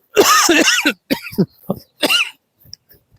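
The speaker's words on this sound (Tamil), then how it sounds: "இருமல் நிறைய வருது" A burst of harsh, throaty coughs during a cricket match, several in quick succession, close and loud, followed by a couple of softer coughs trailing off.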